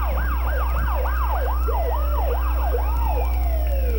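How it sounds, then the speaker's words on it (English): County sheriff vehicle sirens sounding during a small-town 1987 parade, a loud rapid wailing yelp repeating over and over, with a steady engine hum beneath. "Let's hear the sirens, boys."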